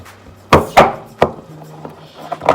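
A knife punching holes in the side of a tomato can, three sharp metallic stabs close by in quick succession, followed by faint handling noises.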